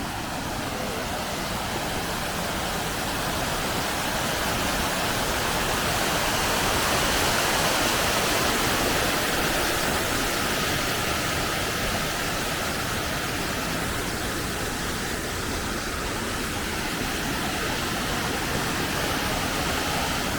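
The Great Una Falls in Bosnia roar steadily at close range, stream water pouring down in a dense, unbroken hiss and rumble that never lets up.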